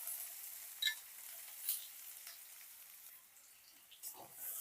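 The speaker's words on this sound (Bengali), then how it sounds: "কুচনো পেঁয়াজটা এখন ভেজে নেব" Chopped onion fries in hot oil with whole cumin seeds, giving a faint, quiet sizzle and crackle with a few light pops and clicks scattered through.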